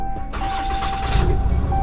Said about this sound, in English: Step on up in this thing and fire up the engine.